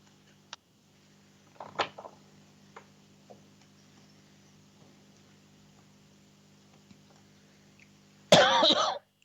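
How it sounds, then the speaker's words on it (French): A woman gives a couple of brief, muffled coughs in a quiet room, followed near the end by a louder, harsher burst. "C'est toujours quand on arrive au soir que la toux, elle sort beaucoup plus"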